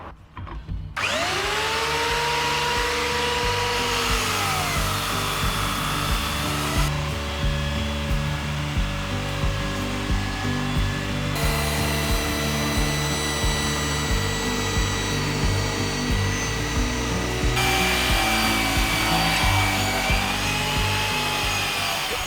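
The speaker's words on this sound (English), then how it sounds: "So that's where I'm going to be using a brush sander." A brush sander whines continuously on timber decking, its pitch shifting as it works across the surface stripping old stain, close and loud throughout.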